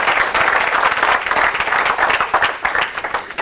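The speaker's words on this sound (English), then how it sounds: "Give this guy a round of applause." A live audience at a stage hypnosis show applauds a volunteer, producing steady, dense clapping that stays loud and continuous throughout, with no talking over it.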